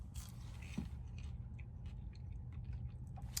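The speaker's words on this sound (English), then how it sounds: "When you bite into it, outside is crunchy" Someone bites into crunchy fried medium-heat hot chicken, the close crunches and chewing coming as a few quiet crackly bursts with no talk.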